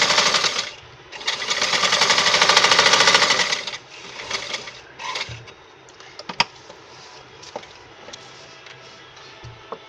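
A sewing machine stitches a suit, with a loud sustained whir of continuous running for a few seconds, then shorter bursts and scattered clicks and taps of handling.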